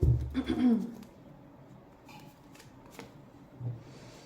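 Tarot cards are gathered and shuffled by hand with a quick riffling flutter, followed by softer, sparse slides and taps as cards are drawn, close by and quiet.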